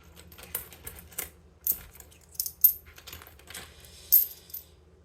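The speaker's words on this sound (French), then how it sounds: "Excusez-moi pour le bruit des pièces." Coins being counted by hand clink and drop one after another in small irregular bursts, close and crisp, with short quiet gaps between the metallic taps and no talking.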